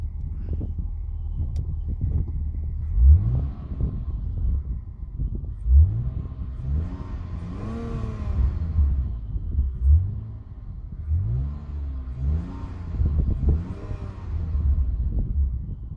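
A 2000 BMW Z3's 2.0 straight-six engine revs up several times in a row in neutral, rising and falling in pitch, with a steady idle rumble between the bursts.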